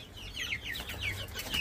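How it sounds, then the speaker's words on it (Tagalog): A rooster and hen cluck in a quick series of short, bright calls, fairly close, with no talking. "si Rooster Pugi at yung ating isang inahin"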